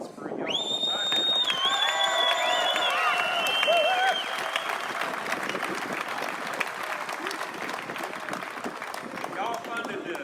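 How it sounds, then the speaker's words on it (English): A large outdoor crowd at a plumbers' rally claps and cheers loudly for about ten seconds. Whistles and shouts rise over dense, continuous applause. "I want to hear a round of applause for y'all right now."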